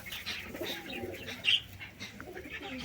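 Young pigeons cooing softly nearby, giving a few low, gentle coos and a brief louder call in the middle, with faint background noise and no speech.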